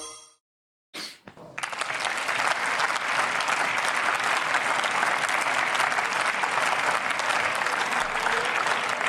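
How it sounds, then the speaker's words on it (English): After a short quiet pause, a burst of applause starts and swells into sustained clapping from many hands. It stays loud and steady until the end. "Stop clapping!"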